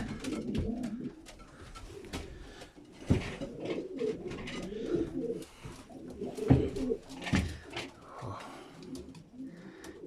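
Pigeons in a breeding loft of mostly older widowhood cocks paired with hens sitting in nest bowls, cooing repeatedly in overlapping bursts with wing flutters and rustling, close and moderately loud throughout.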